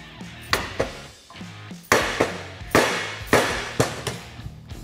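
A rear steering part for a Polaris Ranger XP1000 side-by-side is driven into place by hammer blows on a socket, about nine sharp metallic taps in uneven clusters with brief ringing after each.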